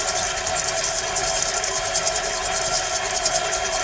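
A food processor whirs biscuit crumbs with butter, a steady loud motor hum with a gritty churning texture that runs unbroken for a few seconds.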